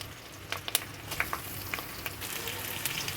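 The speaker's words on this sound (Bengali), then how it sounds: "পেঁয়াজ ভাজা ভাজা হয়ে গেলে" Chopped onion fries in a pan with a soft, steady sizzle and occasional sharp crackles and stirring clicks, fairly quiet and close.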